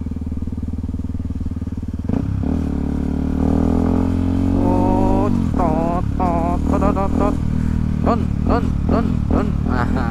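A Yamaha trail motorcycle on a Sunday group ride runs with a steady low engine drone that swells and shifts as it is maneuvered, heard under a singing voice and music.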